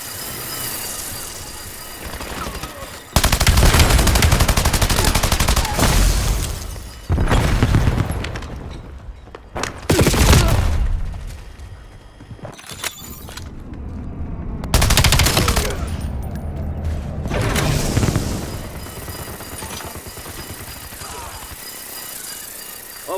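Call of Duty Black Ops 7 video game gunfire: loud bursts of automatic weapon fire and booming shots come in several separated volleys, close and harsh, with brief quieter gaps between them.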